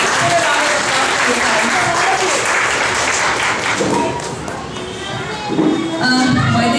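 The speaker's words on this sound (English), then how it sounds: "Please put a round of applause for" An audience claps loudly and continuously at an International Women's Day event at a kids' school, a dense wash of applause with a short dip near the end before it swells again. Voices murmur faintly beneath it.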